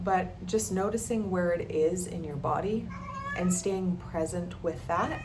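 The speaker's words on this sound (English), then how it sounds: "That's my cat" A cat meows several times close by while someone speaks calmly over it.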